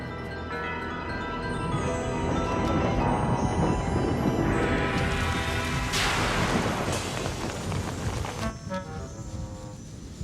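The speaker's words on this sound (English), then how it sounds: "Sudden thunderstorms are usually a sign of trouble." A cartoon thunderstorm brings a steady wash of heavy rain, with loud rolling thunder that swells midway and a sharp crack near the six-second mark, fading back into the rain.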